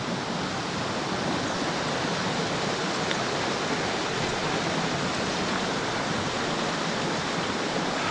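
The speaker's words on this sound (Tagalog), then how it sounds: "Guys, di ba yung agos ng tubig?" A forest stream flowing toward Tuay Falls, its rushing water a steady, broad, unbroken hiss heard close by and alone.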